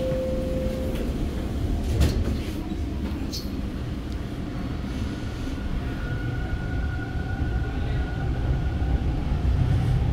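A metro train at Victoria Park station gives a steady, close rumble with rattles and a couple of brief tonal whines and clunks, continuous throughout with no talk.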